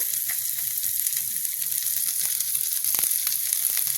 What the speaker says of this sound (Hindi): देखिए हरा मिर्चा डाल दिया, इसको पकाएंगे।